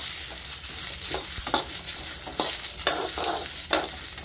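Cumin seeds and dry coconut dry-roasting in a pan for a North Karnataka brinjal dish, with steady scraping stirs and a faint crackle repeating every half second or so, close and moderately loud.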